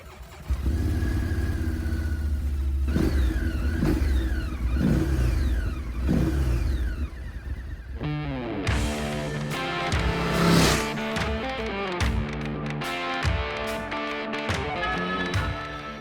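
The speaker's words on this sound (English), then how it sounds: "I'll let you hear how the engine runs." A Morbidelli T1002VX V-twin road enduro motorcycle engine idles steadily, then blips through several revving bursts before a louder, busier stretch of repeated throttle revs, close and fairly loud.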